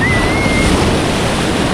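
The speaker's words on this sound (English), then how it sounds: "Pretty decent sized waves for being the East Coast." Waves breaking on the North Carolina shore at low tide on the East Coast, a loud, continuous roar of surf with wind rushing across the microphone.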